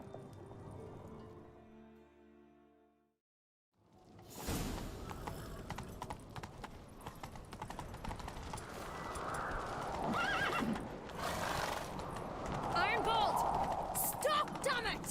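In the video game The Witcher 3: Wild Hunt, after a short quiet gap, horses gallop with rapid, rhythmic hoofbeats, and a horse whinnies amid the steady pounding.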